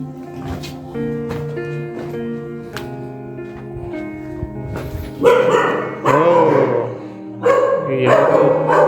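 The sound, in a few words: dogs barking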